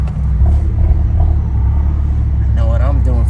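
Low, steady engine rumble of a tuned turbocharged Abarth 124 Spider cruising, heard from inside the car, with brief whistling tones near the end and a voice talking over it.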